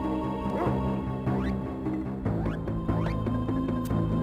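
A dog in the game Secret of Evermore gives short yips and whimpering barks several times in quick succession, heard over steady game music.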